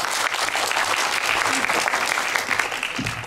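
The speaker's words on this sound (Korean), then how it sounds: "박수!" A lecture audience at a university real-estate forum applauds after a talk, continuous close clapping from many hands holding a steady level, with a faint voice surfacing near the end.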